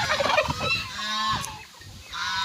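Young goose calls sound close by, a few rising peeps and honks repeating in short bursts with background noise.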